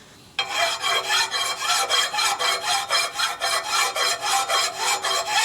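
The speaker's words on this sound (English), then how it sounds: "It's a body file." A hand body file rasps across a metal springer fork from a 1942 Harley-Davidson WLA/WLC 45ci, in steady rhythmic back-and-forth strokes, about a dozen evenly spaced passes, close and fairly loud with no talking.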